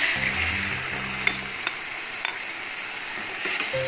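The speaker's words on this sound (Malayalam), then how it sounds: "അപ്പൊ ഞാൻ ഒന്നാം പാലം ഒഴിച്ചു കൊടുക്കും" Simmering fish molee curry as the first coconut milk is poured in, a steady bubbling sizzle with a few sharp spoon taps, no talking.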